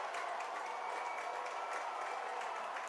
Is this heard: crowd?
yes